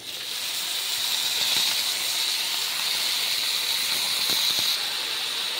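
Bottle gourd greens and stalks hit hot spices in a wok, giving a continuous close sizzling hiss with a few light clicks and scrapes, no one speaking.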